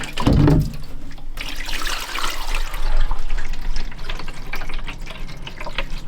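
Water runs from a tap into a newly fitted sink in a DIY camper van kitchen, a close continuous splashing and gurgling stream that starts after a brief knock and keeps flowing steadily.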